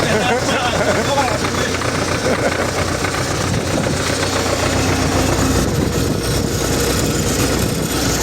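A YuMZ tractor engine idles with a steady, heavy rumble, running continuously and close by the whole time.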